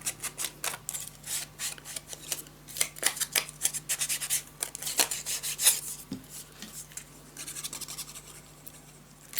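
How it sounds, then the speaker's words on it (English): A Fiskars paper trimmer slices scrapbooking paper in a steady series of short, quiet scraping strokes with small clicks, close and soft, with no talking. "let's cut a 1 inch of this. Okay, I'm now at my fiskars."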